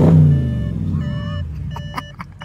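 An Audi S7 engine rumbles loudly up close, a deep surge that fades to a steady idle, with a few short electronic beeps and tones in the background near the end.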